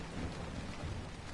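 Steady heavy rain pours outside with a low rumble of thunder underneath, a dense continuous wash of sound with no voices.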